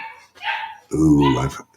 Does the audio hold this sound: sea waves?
no